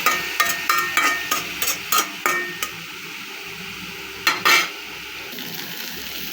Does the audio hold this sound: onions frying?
yes